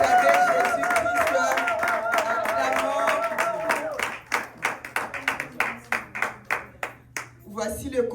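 A church congregation at a Sunday worship service in Sherbrooke, Canada, bursts into applause after voices and singing, with the claps settling into a steady rhythmic beat before tapering off.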